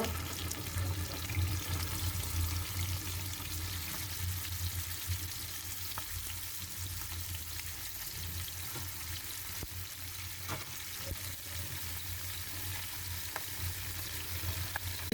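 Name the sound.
shing fish frying in mustard oil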